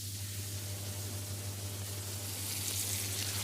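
Vegetables sizzle steadily in a pan over a low simmering gas flame, a soft, even hiss with no break and no voices.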